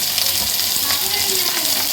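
Curry leaves sizzle in hot oil for tempering, a loud, dense, close-up crackle and hiss that holds steady throughout.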